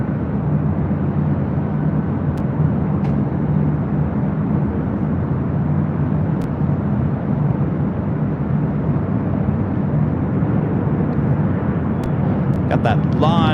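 A LAN Boeing 787-9 Dreamliner bound for Santiago rolls down runway 25 Right at LAX, its engines a steady low, distant roar lasting the whole stretch, with voices present.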